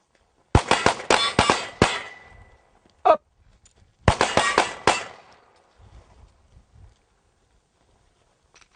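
Gunfire on a dirt firearms training range comes in two tight bursts of sharp, loud shots with a single crack between them. Quiet pauses and faint shuffling follow.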